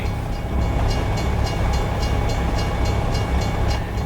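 A train rolls past in the snow in Montana, a steady loud rumble with a rhythmic ringing of crossing bells pulsing on top, close and continuous throughout.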